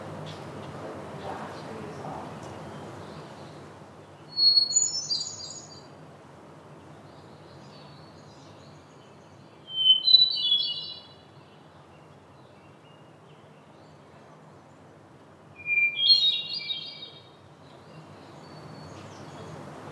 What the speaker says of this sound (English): And then I looked at the hermit thrush, which is basically a nightingale songbird.